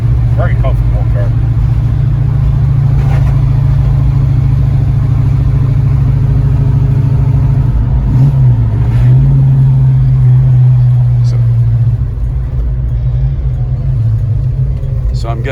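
A 1962 Plymouth Fury's engine rumbles loud and steady from inside the moving car, with a brief rise in revs midway and voices talking over the drone.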